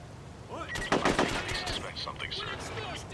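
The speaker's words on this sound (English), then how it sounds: "Why are you shooting?" Gunfire from the PS2 tactical shooter SOCOM U.S. Navy Seals, with a burst of rapid shots in the middle of the clip over steady game ambience and faint background sound.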